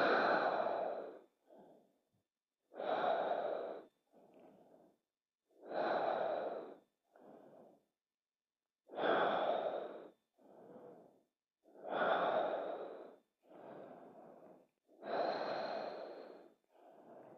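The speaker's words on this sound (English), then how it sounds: "deep breaths." Slow, deep yoga breathing during a stretch in a vinyasa flow class, paired long inhales and shorter exhales repeating about every three seconds, close and quiet with no talking.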